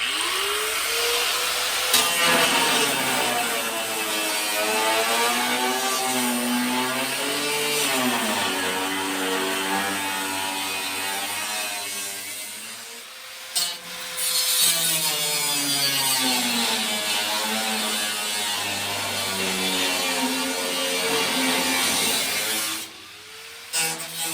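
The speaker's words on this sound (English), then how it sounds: "I'm just going to rough cut some of this original angle off so it's out of the way so I can fit the new piece." Old steel angle being rough cut off the step side bed of a 1956 pickup, a loud, steady whining cut that rises and falls in pitch for most of the stretch, with brief pauses near the middle and end.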